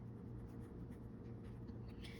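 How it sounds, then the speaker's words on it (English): Sailor Pro Gear Slim fountain pen with a fine nib in metallic sky blue writing on paper with a light hand, giving a steady, close, low scratchy rustle that runs without break under a faint background hum. "let's take a look at how the pen writes"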